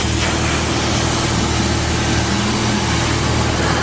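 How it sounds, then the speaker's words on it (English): A loud, constant hissing spray of a pressure washer at 1100 PSI cleaning carpeted car fender wells runs without a break, layered over a low droning motor hum. "spray 1100 PSI directly on it"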